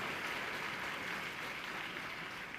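An audience at the Utsav 2014 festival at Dev Sanskriti Vishwavidyalaya in Haridwar claps continuously, a faint, distant-sounding hiss of applause that stays level throughout.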